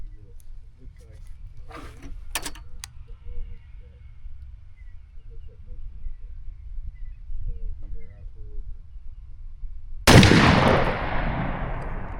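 A .410 shotgun fires once at a pattern target with Apex 3.5-inch TSS number 9 shot: a single sharp, loud blast near the end, after a quiet stretch of outdoor ambience and faint distant noises.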